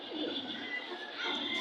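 Pigeons coo in soft, rolling murmurs at the Hasnabad pigeon market in Bangladesh. The close, continuous calls overlap in a busy cluster without speech.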